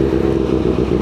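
A 2022 Kawasaki ZX6R sport motorcycle with a full-system open exhaust runs steadily, a loud, continuous low engine drone recorded close up, with no pauses or voices.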